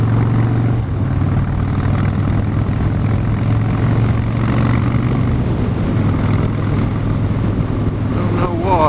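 A car engine with an intermittent fault idles roughly at a halt, threatening to stall, a steady low drone with uneven throb filling the cabin while someone talks over it.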